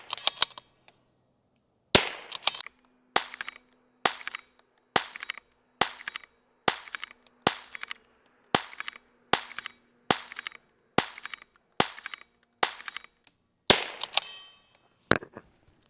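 A Rim-X rifle fires roughly fifteen sharp single shots at a steady, evenly spaced pace during a reliability test styled like a match, each report crisp and loud against quiet gaps.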